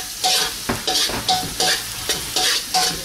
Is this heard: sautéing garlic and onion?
yes